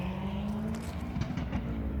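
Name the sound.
car with loud exhaust passing by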